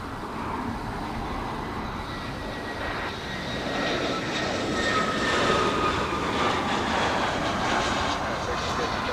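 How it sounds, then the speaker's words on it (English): A Delta Airlines Airbus A319 from Portland touches down on runway 24R at LAX, a broad, steady jet roar that swells slightly toward the end, heard from a distance with faint talk underneath. "We have Delta Airlines from Portland, flight 2766, a A319, about to touch down on runway 24 right."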